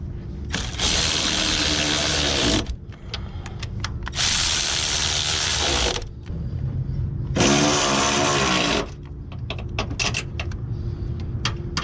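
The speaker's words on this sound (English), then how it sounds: "we're going to tighten the two that go to the engine first" A hand ratchet tightens the engine-side motor mount bolts on a Ford Focus, three loud bursts of rapid clicking separated by pauses, with softer metallic clinks between strokes.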